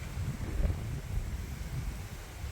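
Strong gusting wind from Hurricane Helene on a Thursday morning, a steady low roar with rising and falling surges buffeting the microphone, with no voices.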